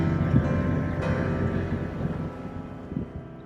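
A sailboat running with sails set wing and wing at about 7 knots, with steady broadband wind and water rush near the microphone and no voices.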